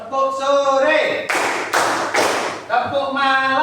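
Three sharp hand claps in quick succession during a classroom clapping game at an elementary school, with a voice speaking just before and after them.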